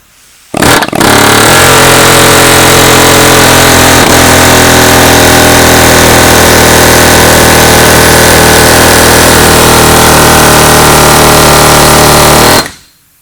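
A Snap-on air hammer with a sharp chisel cuts into a nut, a loud, continuous pneumatic rattling that hammers steadily for about twelve seconds, close up, with a brief burst before the sustained run.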